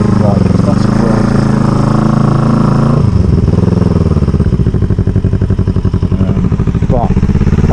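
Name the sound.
1987 Kawasaki EN450 bobber motorcycle engine running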